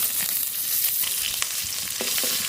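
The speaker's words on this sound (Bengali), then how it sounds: "রাঁধুনি ফোড়ন, গোটা রসুন ফোড়ন, গোটা কাঁচা লঙ্কা ফোড়ন।" Radhuni seeds, whole garlic cloves and whole green chillies tempering in hot oil for a village-style greens fry, a steady close sizzle with faint crackles and a few clinks of stirring, no voices.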